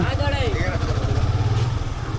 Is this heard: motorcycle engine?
yes